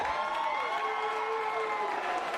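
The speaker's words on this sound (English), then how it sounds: "The crowd went wild." Crowd at a college holiday bingo event cheering and applauding, a steady wash of voices and clapping, loud and continuous throughout.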